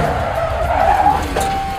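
A 1968 Dodge Charger fitted with a 707-horsepower Hellcat engine swings around with tires skidding and squealing, a loud continuous screech over engine roar lasting a couple of seconds.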